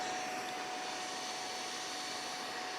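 A portable TAB upholstery spot cleaner running on turbo power with heat gives off a steady, loud, unbroken motor whine and rushing air drone, close and alone throughout.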